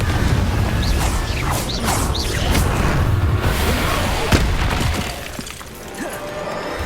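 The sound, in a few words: Incendio and Confringo spells cast in Hogwarts Legacy video game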